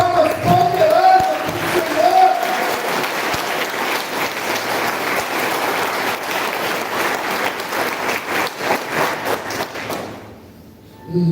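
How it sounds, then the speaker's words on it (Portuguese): A church congregation claps together in sustained, dense applause that builds and holds for about ten seconds before cutting off abruptly, with a voice heard briefly near the start. "se você crê, dá uma salva de palmas poderosa"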